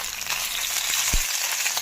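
Twelve idli pieces fry in a pan, a close, steady crackling sizzle with a single soft thud near the end.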